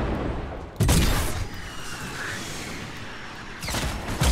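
Rocket launcher shots and explosions in Fortnite's High Explosives mode, two loud sharp blasts about three seconds apart over a continuous noisy rumble of gameplay.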